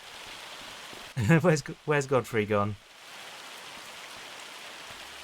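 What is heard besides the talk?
rain falling in Farming Simulator 25 video game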